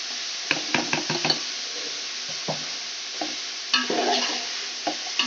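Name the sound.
capsicum and cabbage added and stirred in pan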